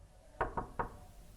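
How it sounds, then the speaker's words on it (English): Three quick knocks sound on a door of a room where a woman is waiting, close and moderately loud, evenly spaced within half a second against a quiet hum. "There's another knock at the door."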